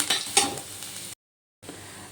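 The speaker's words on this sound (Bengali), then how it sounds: "পাঁচ কোয়া রসুন আর একটা কাঁচা লঙ্কা দিয়ে একটু ভেজে নেব" Five garlic cloves and a green chili frying in hot oil give a close, bright sizzle with a few utensil scrapes, broken by a short silent gap before the crackle resumes.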